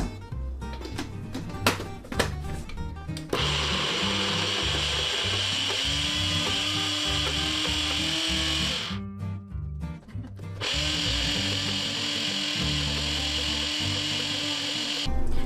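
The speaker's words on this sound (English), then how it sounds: "mix them in a blender until they're completely blended and creamy." A blender whirs loudly and steadily blending ginger and sugar, with grinding and churning in its tone and a couple of short stops before it spins up again.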